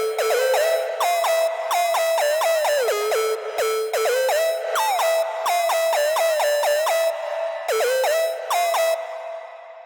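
A distorted, bitcrushed square-wave synth lead plays a bright, buzzy melody of short pitch-gliding notes in choppy phrases with brief gaps, loud and alone for about ten seconds before tailing off.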